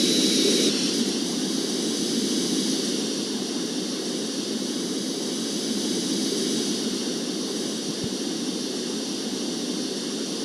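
An airplane engine in the video game GTA San Andreas, a steady, loud droning hum that holds constant throughout without a break.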